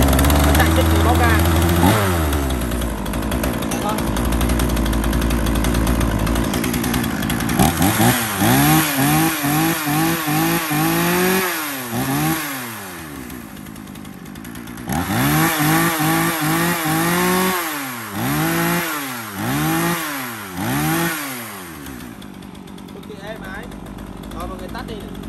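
A 35cc Zenoah Komatsu G3500EZ chainsaw, a lightweight 4.5 kg Japanese saw, starts up and runs loud and close, its two-stroke engine revving up and down in repeated bursts between steadier idling, with a voice talking over it.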